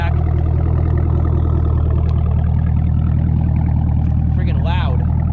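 A 2021 Camaro 2SS 1LE with an AWE axle-back exhaust idles in a loud, steady, deep rumble throughout, with a brief rise in pitch near the end.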